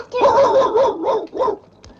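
A dog in a 1965 horror film gives a run of barks and yelps, loud and close, in several bursts over about a second and a half before falling quiet.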